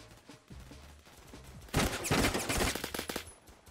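Sustained automatic gunfire in the Roblox shooter Phantom Forces, a dense loud burst of rapid shots starting partway through after quieter sporadic fire, with no talk over it.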